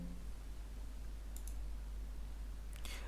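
Computer mouse clicks on a Windows PC, a quick double click, then another brief pair of clicks a moment later, faint over a steady low hum; no talking.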